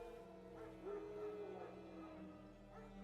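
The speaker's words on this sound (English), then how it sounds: "Wild dogs. No. Yes. More dangerous than wolves." Wild dogs howling at night in The Witcher 3, a drawn-out tonal wail rising and falling over steady game ambience, moderately loud, with brief yips around it.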